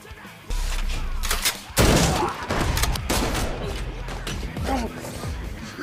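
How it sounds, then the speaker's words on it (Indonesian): Shotgun blasts go off in an action video game, heavy booms and crashes mixed into dense game sound. Someone talks over the loud, continuous action. "dia mengambil senapan shotgun mematikan one hit"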